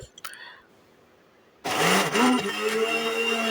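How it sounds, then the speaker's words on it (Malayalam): A mixer grinder crushing soya chunks with cumin and salt starts abruptly after a brief quiet moment, then whirs loudly and steadily up close with a slight labouring pitch change as it runs. "നമുക്കൊരു മിക്സിയുടെ ജാറിലോട്ട് ഒഴിച്ച് ഇതിനൊന്ന് ക്രഷ് ചെയ്തെടുക്കണം"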